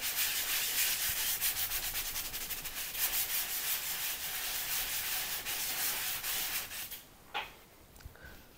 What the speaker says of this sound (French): ponçage terminé